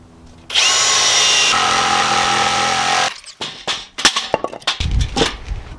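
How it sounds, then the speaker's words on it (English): A loud power drill whines steadily for a few seconds drilling a pilot hole, then stops; a jigsaw follows, chattering in rough bursts as it cuts out a sink hole in a wooden kitchen cabinet. "I'm gonna drill a pilot hole first, and then I can take a jigsaw and cut this out."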